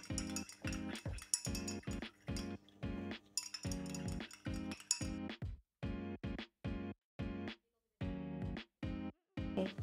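Glass cleaner solution being stirred in a container, a utensil clinking repeatedly against the sides in a steady rhythm of sharp, ringing taps, close and clear with no talking.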